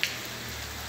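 Rain falls steadily during a house demolition, a soft continuous hiss with one brief tap at the start.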